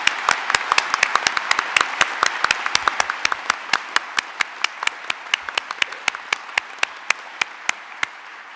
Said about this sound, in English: let's make some noise for them with a big round of applause of thank you